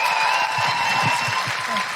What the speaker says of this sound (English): Can I have a huge round of applause for Jamila and Laura?